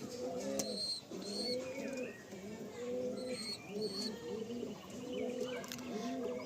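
Several pigeons coo together in a loft, overlapping rolling coos in a steady rhythm, close but fairly quiet, with faint higher chirps from other birds.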